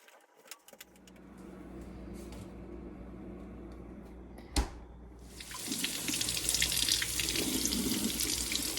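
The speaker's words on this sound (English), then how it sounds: "run them under some warm water" Warm tap water runs over frozen popsicle molds at a sink, starting as a steady trickle and then swelling into a loud, hissing gush that continues to the end after a brief clatter.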